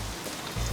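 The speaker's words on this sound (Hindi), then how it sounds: "यहाँ इतनी बरसात हो रही है" Heavy rain pours down steadily at a bus stop, a dense, continuous wash of drops with a louder surge toward the end.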